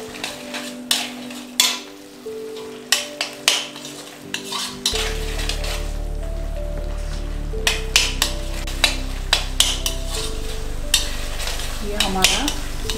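Soya chaap stirred in a pan of oil and tomato paste, a metal spoon scraping and clinking in repeated strokes over a steady sizzle that grows louder partway through, with background music and no talk.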